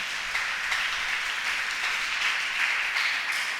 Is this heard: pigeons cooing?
no